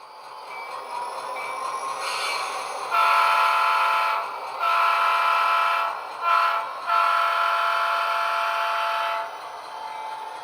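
Model train locomotive running on a DCC-automated layout: steady mechanical hum with tonal whistle-like notes that swell and drop several times over about ten seconds, fairly loud and close.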